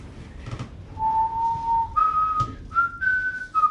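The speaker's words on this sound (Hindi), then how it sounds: "कुछ नहीं करने पर सीटी क्यों बजा रहे हो?" A person whistles a short tune, clear sustained notes stepping upward in pitch with small breaks between phrases, close and alone.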